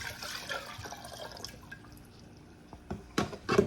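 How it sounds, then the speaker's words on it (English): Dirty water dumped out of a fish tank: faint trickles and drips at first, then a few louder splashing pours close by near the end. "Let's see if we can dump this water."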